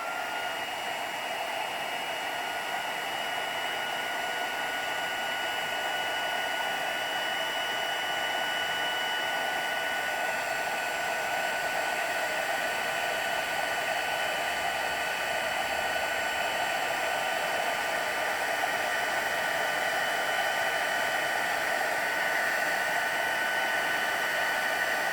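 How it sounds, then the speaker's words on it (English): A heat tool blows steadily to melt embossing powder on a Christmas card sentiment, giving a continuous, even hairdryer-like whoosh with a high whine that runs unbroken and close for the whole stretch, with no talk. "So now we're going to turn on the heater again,"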